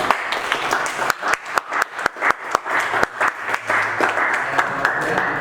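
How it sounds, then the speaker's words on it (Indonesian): Audience applause at the close of a student presentation event, a crowd clapping with sharp individual claps standing out over a steady background patter, fairly close and lively, continuing throughout. "Mari kita sekali lagi beri tepuk tangan"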